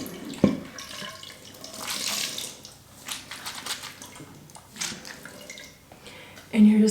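Hair dipped into a bowl of water with conditioner, producing soft splashes and sloshing with a few dripping sounds, fairly quiet and close.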